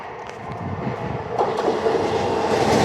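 A train bound for Gniezno passes at Kobylnica, a steady rolling rumble of rail wagons that swells louder toward the end, with no voices.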